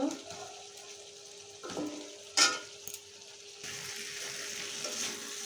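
Potatoes fry with spices in oil for a Bengali snakehead fish and potato curry, a soft sizzle broken by a few scraping stirs and a clatter, with the sizzle growing fuller and steadier toward the end.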